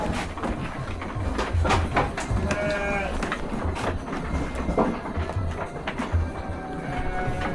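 Garut sheep on a crowded breeding farm give repeated overlapping bleats, close and distant, amid shuffling hooves and pen noise.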